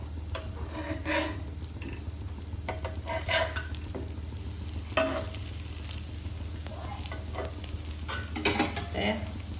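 Ragda patties frying in a thin layer of oil in a pan give a steady close sizzle, with intermittent scraping and stirring sounds from the utensil as they are turned. No one speaks.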